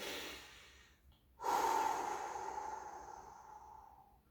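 A slow, loud breath: a short inhale, a pause, then a long audible exhale that gradually fades, close to the listener.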